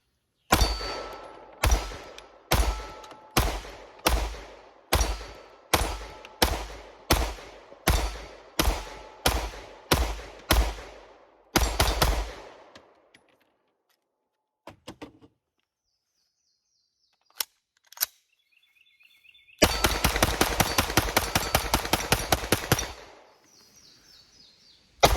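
A Shadow Systems XR920 pistol emptying a magazine, about a dozen sharp, loud shots in a steady quick rhythm, then a brief pause, a few scattered clicks and metallic handling sounds, and a fast burst of rapid clattering near the end.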